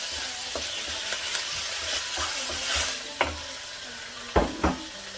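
Small pieces of chicken fry in a pan with a steady hiss and sizzle, broken by occasional scraping stirs and a few sharp knocks of a utensil against the pan near the end.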